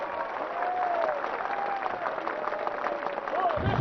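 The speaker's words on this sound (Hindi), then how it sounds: "अहिंसा के लिए ताली बजाइए, शांति के लिए ताली बजाइए।" Steady applause from a large audience fills the whole stretch, dense and continuous with a faint voice carrying over it near the end.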